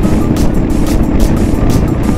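A Royal Enfield Himalayan motorcycle cruises on a highway, heard as a loud, steady engine drone mixed with strong wind rush and rhythmic buffeting that stays close throughout, with no talking.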